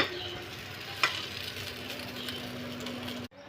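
Dal-rice appe frying in an oiled appe pan, a continuous close sizzle with a steady low hum beneath and a single sharp metallic tick as one is flipped, ending in a sudden cut.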